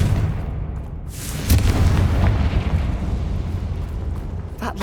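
A Confringo fire spell bursts in the Hogwarts Legacy video game, a loud booming explosion that swells suddenly and rumbles on with crackling, sustained low roar for several seconds, no talking over it.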